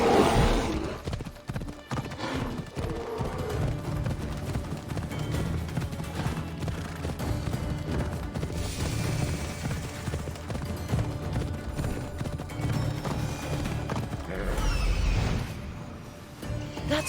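Horse hooves clip-clopping at a gallop in the game Assassin's Creed Odyssey, a steady rapid rhythm close up with a brief whinny and game ambience around it.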